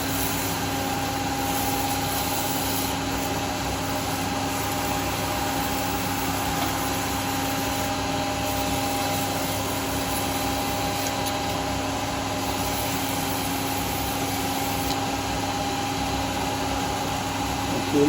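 A wooden yoyo turns on a woodturning lathe during sanding, giving a steady, close whirring motor hum with a faint hiss that stays even and unbroken throughout, with no voices.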